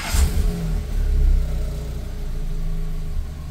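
Renault Twingo mk1 engine running just after a catalytic converter replacement, a loud, close rumble with a brief rev at the start and then a steady, slightly throaty idle.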